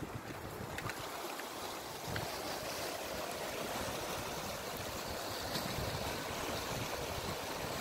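Waves wash steadily against a city beach in Catania, a continuous, even rush of surf heard from a moderate distance with no voices over it.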